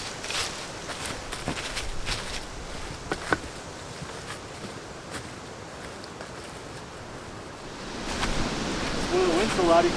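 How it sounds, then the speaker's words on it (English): Strong wind sweeps along a hiking trail on Minnesota's North Shore, a broad, constant rushing hiss that swells louder toward the end, with scattered footstep crunches and faint voices beneath. "wind's so loud you can't hear the creek."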